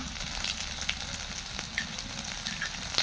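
Onion frying in a pan until it turns red, producing a steady, close sizzle with small pops and crackles throughout.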